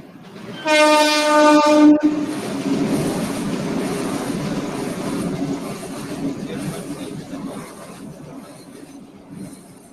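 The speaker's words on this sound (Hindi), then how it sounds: "ट्रेन की आवाज गड़बड़ कर जाती बीच में।" A train rolls past on a line right beside a house, its horn sounding loudly for about a second before a steady rumble of wheels and carriages continues, slowly fading over the remaining seconds.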